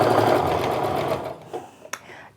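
A sewing machine runs a steady fast stitch along quilt pieces, loud and close with an even whirring rhythm, then stops and leaves a few light clicks and handling sounds.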